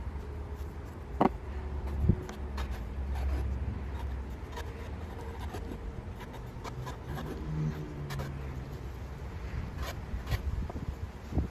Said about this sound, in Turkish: Üçgen olacak şekilde dilimler halinde mantıları kesiyorum.